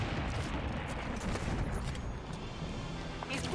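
Turret gunfire during a Legendary-difficulty battle in Halo 5: Guardians, a continuous rattle of rapid shots and booming blasts, fairly loud and close, with a voice talking over the fighting.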